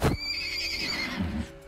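A horse neighs in the video game Wartales, a loud high whinny that rises and then trails off over about a second, with faint clip-clop and low rumble beneath.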